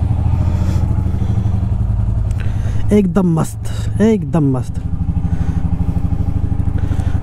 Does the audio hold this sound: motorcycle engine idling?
yes